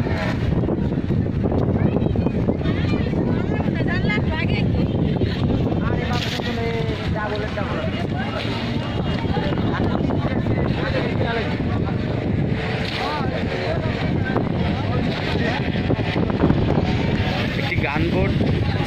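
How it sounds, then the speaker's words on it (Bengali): An engine-powered trawler boat runs past on the water near Cox's Bazar, a continuous low rumble mixed with wind buffeting the microphone and water noise, with someone talking over it throughout. "একটি ট্রলার, এটার নাম হচ্ছে ইঞ্জিন চালিত ট্রলার। ট্রলারটি উত্তর দিক থেকে দক্ষিণ দিকে চলে যাচ্ছে।"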